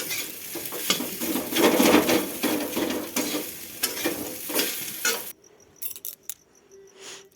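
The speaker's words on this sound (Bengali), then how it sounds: "এরকম করে নাড়াচাড়া করবেন, ভালোভাবে মিশিয়ে নেবেন।" Food frying in a pan is stirred vigorously, with a loud crackling sizzle and repeated scraping strokes for about five seconds, then a sudden drop to a quiet room with faint clicks and a high insect-like chirp.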